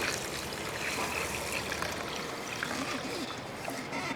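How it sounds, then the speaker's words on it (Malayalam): Water is poured onto kaima rice being readied for chicken biryani, making a continuous close trickling splash that lasts about four seconds. "കുറച്ച് വെള്ളം ഒഴിച്ച് നമുക്കങ്ങ് വെച്ചേക്കാം."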